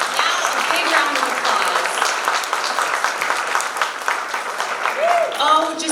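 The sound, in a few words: audience round of applause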